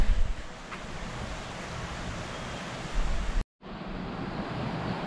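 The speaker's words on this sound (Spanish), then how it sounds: "aquí pasa un río, aquí abajo" A river flowing below the speaker's position in Santa Úrsula, Hidalgo, gives a steady broadband rush mixed with wind buffeting on the microphone, with a brief dropout near the middle.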